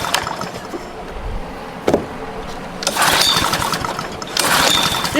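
Recoil cord pulled on a Honda GC160 engine fitted to an abandoned Pramac generator that won't fire: a short rasping pull, then two longer whirring pulls close by, with no sign of the engine catching.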